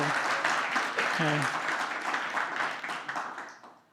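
Applause from the audience at a closing-remarks session, a soft bed of clapping with a voice speaking over it, tapering off and fading out near the end.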